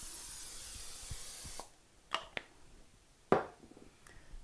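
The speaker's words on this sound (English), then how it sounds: "I'm going to take a 9 by 13 baking dish, and I am going to spray it with some nonstick spray" Nonstick cooking spray shot into a 9 by 13 baking dish, a soft hissing burst lasting about a second and a half, followed by a few faint clicks and taps close by in a quiet kitchen.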